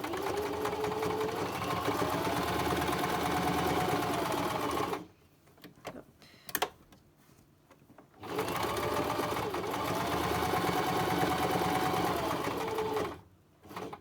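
A domestic sewing machine topstitches around a small reusable fabric makeup remover wipe, loud continuous close whirring in two long runs separated by a short pause with a few faint clicks.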